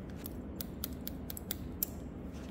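Scissors snip through hair during a men's leaf-cut haircut, about a dozen crisp metallic clicks in an uneven rhythm, close and distinct over a low background hum, with no talking.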